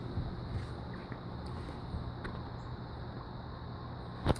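Heritage Hugger 42-inch ceiling fan running on medium speed, a steady broadband whoosh of moving air with a low hum, constant and fairly quiet throughout.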